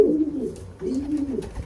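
A young racing pigeon cooing softly, two low rolling coos close by in a quiet setting.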